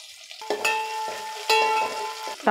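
Curry leaves and onions sizzle in hot oil for a Nellore dry fish curry, with loud scraping stirs of a spatula against the pan at intervals over a steady frying hiss.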